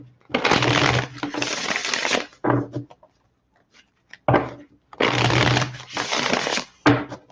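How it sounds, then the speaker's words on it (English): A deck of tarot cards being shuffled by hand in close-up, two long riffling bursts separated by shorter taps and a brief quiet gap, crisp and loud with no talking. "One more shuffle, then I'm going to go ahead and lay out those 6 cards"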